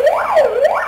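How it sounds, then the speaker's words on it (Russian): Fire siren wailing during a university fire drill, a loud continuous rising and falling tone sweeping up and down about twice within under a second, close and alone with no talk. "Звук пожарной сирены"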